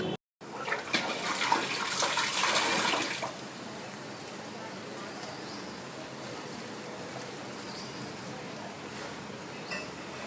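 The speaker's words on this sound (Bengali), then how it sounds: "মাছটা আমি ভালো করে ধুয়ে নিচ্ছি" Tap water runs and splashes as pieces of cut fish are rinsed in a kitchen sink, a loud rushing burst at first that settles into a steadier, softer flow for the rest.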